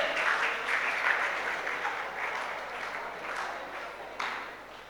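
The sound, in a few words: audience applause honouring students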